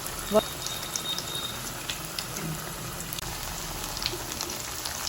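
Crispy banana flower vadai fry in hot oil, giving a steady, close crackling sizzle like light rain that continues evenly throughout.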